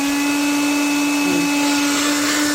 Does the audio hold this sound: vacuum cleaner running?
yes